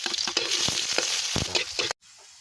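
Garlic, onion and pepper sizzle and fry in a pan for a sweet pork dish, with steady close crackling and a few stirring scrapes before the sound cuts off abruptly.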